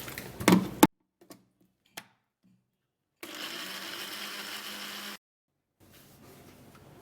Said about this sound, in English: and then I will blend it